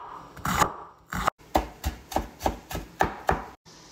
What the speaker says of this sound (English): cut up an onion